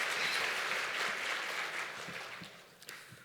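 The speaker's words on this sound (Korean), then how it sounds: "다시 베들레헴 성가대 위해서 박수 한번 해주세요" A congregation applauds the Bethlehem choir at a church service, the clapping fairly faint and distant, full at first and then thinning out and fading toward the end.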